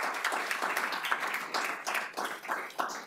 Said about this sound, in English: Let's give these candidates one more round of applause.